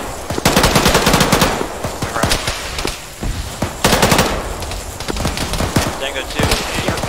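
Dense automatic gunfire and individual shots crack out in the Arma 3 military shooter, loud and close in repeated bursts. Radio-style voices can be heard faintly underneath.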